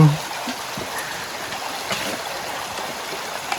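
Water of the Yahe River rushes and flows steadily as a broad, continuous hiss with gentle gurgling, heard close and without pause throughout.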